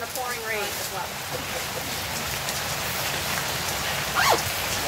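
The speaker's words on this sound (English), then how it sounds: "Thank you for coming in the pouring rain as well." Pouring rain falls steadily and loudly outdoors at a ribbon-cutting event, a continuous broadband hiss filling the whole stretch, with brief chirping sounds near the start and end.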